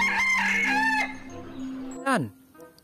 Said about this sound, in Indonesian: Ini ayam jantan.